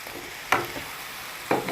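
Spinach greens tossed with green chilli, grated coconut, small onions and turmeric in a pan give a soft low sizzle, broken by two brief scraping stirs of a spoon.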